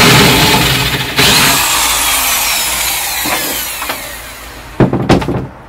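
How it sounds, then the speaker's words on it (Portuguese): A size 8 bit drilling a hole during installation of a rock-and-roll bed seat with rivet nuts: a steady power-tool whine runs throughout, then a few short, sharper bursts near the end as the bit works through the material. "E agora eu tô fazendo um furo. Se eu não me engano, essa aqui é a broca 8."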